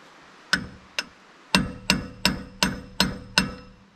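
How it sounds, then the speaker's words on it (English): A hammer whacks brake parts on a 1987 Toyota 4Runner, with eight loud, sharp metallic strikes in a fairly even rhythm, close up and without talk. "But give it a couple whacks and it works."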